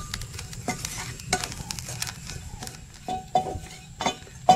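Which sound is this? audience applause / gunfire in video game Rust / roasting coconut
roasting coconut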